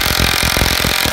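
A hammer drill pounds down into the ground, a loud, steady run of rapid mechanical blows close by that cuts off abruptly at the end.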